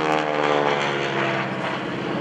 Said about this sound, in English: That deep throaty rumble, that's the sound of the actual engine.